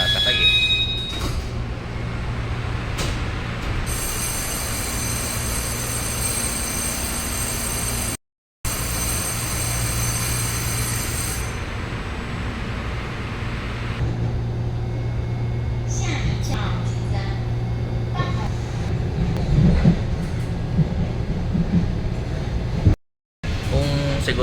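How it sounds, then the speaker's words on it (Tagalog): Riding alone aboard a train in the morning: a continuous rumble and hum of the moving carriage with a sustained high-pitched tone for several seconds, two brief dropouts, and someone talking over it. "parang ito yung first time na sumakay ako ng train na parang ako lang"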